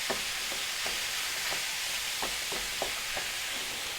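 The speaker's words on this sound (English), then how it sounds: "Get the onions mixed in with it." Onions stirred into a cornbread mix in a pan, a faint steady sizzle under soft irregular scrapes of a spoon, quiet and close with no talking.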